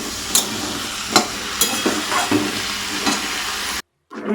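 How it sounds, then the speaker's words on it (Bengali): Potato and pointed gourd frying in a pan give a steady broadband sizzle, broken by several sharp stirring scrapes and clacks, before cutting off abruptly near the end. "একটু ভাজতে দিয়েছি আলু পটলটা"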